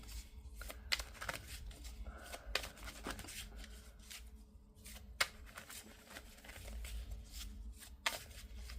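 Tarot cards are shuffled in quick riffling bursts with soft slaps and rustles between them, fairly quiet and close, with no voices.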